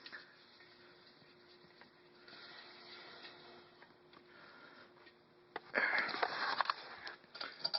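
Air drains from an air compressor tank as a faint, steady hiss that suddenly swells into a louder, rougher rush near the end, heard alone.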